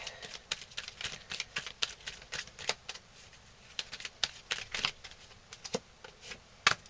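Tarot cards are shuffled and drawn in a quick run of soft, papery flicks and slaps, close and steady with brief pauses, with no voices.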